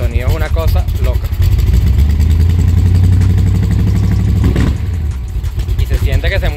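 Factory Five AC Cobra replica with a 500+ hp engine idling loudly through its exhaust, a deep, steady, throbbing rumble heard up close, with a person talking over it.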